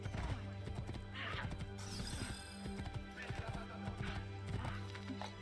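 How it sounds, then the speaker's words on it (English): In Assassin's Creed 2, a horse whinnies while hooves clip-clop steadily over a busy background, with someone talking throughout. "There's my horse."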